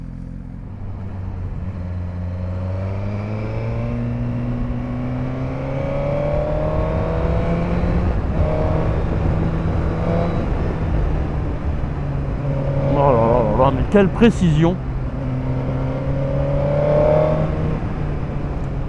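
A Suzuki GSX-R1000 four-cylinder sport motorcycle with 202 hp revs up, its engine note climbing steadily in pitch and growing louder, with a sharp burst near the end and someone talking over it.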